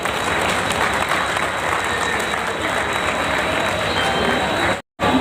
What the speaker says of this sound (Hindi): एक बार स्वागत मेयर साहब के लिए तालियों के साथ